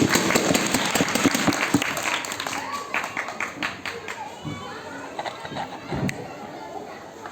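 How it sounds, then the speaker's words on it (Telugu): Applause at a village assembly (grama sabha) staged as a science drama on the water crisis: a clatter of clapping from a gathered crowd, loudest at the start and thinning into scattered claps, with voices and activity mixed in. "గ్రామాల కోసం గట్టిగా చప్పట్లు."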